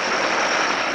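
Apache military helicopters arriving in Albania give off a loud, continuous, close engine and rotor roar with a steady high whine and no voices over it.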